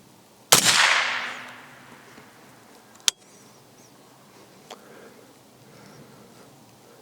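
A 22 ARC custom AR rifle firing Hornady CX 70 grain ammunition: one loud sharp shot with a long fading outdoor echo, then two much fainter distant cracks.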